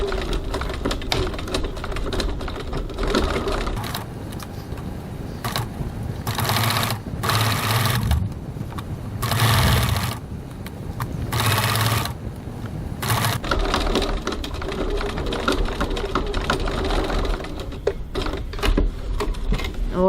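Sewing machine stitching closed the bottom of a crossbody bag pocket close to its edges, a loud, near, continuous rapid needle clatter over about twenty seconds, with brief pauses and speed changes.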